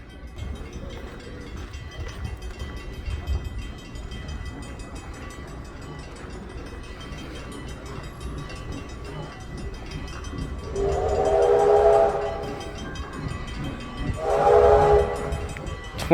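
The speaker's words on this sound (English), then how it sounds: "Here comes the train now." A train pulls into the station at Heritage Park, its horn sounding in two loud blasts near the end, after a steady low rumble of rolling cars amid outdoor ambience.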